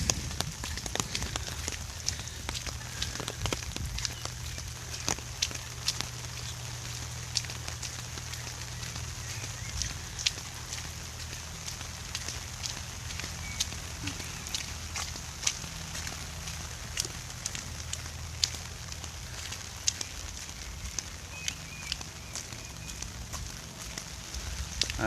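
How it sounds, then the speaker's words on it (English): Steady rain patters through woodland around Three Sisters Lake on a walk, a dense, even hiss with scattered close drops tapping as if on fabric, continuous and moderately quiet with no talk. "Does the rain sound like we're in a tent? It's starting to come down a little bit now."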